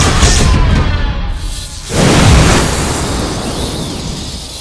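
A loud, rumbling blast bursts in around the two-second mark over a dense noisy background, then slowly tails off into a sustained roar.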